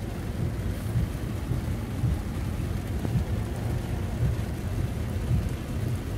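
Torrential rain pours down in Yangsan-dong, Gwangju, during an August 2020 storm: a loud, unbroken roar of rainfall layered over repeated deep thunder rumbles, with no one speaking.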